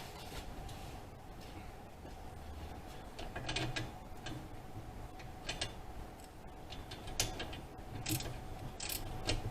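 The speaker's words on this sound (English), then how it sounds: "Okay, we'll tighten that." A ratchet tightens bolts on a 2007 Mustang radiator, giving quick clicking bursts in short runs, close up, over a low steady hum.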